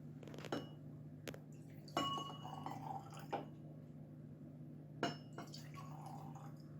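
Whiskey poured into a glass gives a soft trickle and a few light glassy clinks over a steady low electrical hum.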